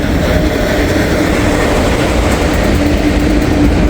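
A train rips past at speed in Walton, a loud, steady broadband roar with rail rumble and wheel noise holding throughout, close to the listener with no talk.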